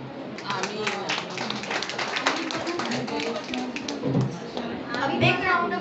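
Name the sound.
applause for performer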